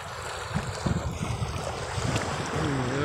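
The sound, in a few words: boat on clear water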